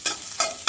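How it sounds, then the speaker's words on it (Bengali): Chopped garlic frying in ghee in a pan, with three short bursts of stirring scrapes over a steady soft sizzle, close and fairly clear. "ঘি দিয়ে দিচ্ছি, রসুনটা ভেজে নেব, আর একটু দেব। রসুন কুচি দিয়ে দিলাম, এটা লাল করে ভেজে নেব।"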